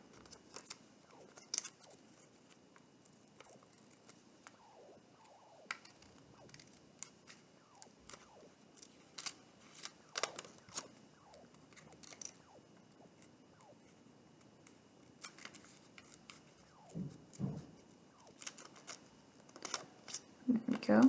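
Scissors snip through paper along the outline of an origami albatross, giving soft, irregular cuts and rustles close by with faint quiet stretches between them.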